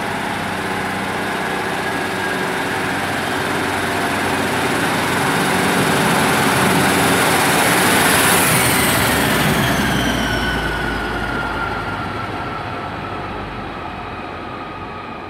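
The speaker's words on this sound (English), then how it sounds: "And that's the sound of the cross-country service getting ready to depart." Cross-country train at Derby station preparing to depart, a loud, continuous rumble and hum with a high-pitched tonal whine rising and falling, the sound swelling in the middle and easing off toward the end.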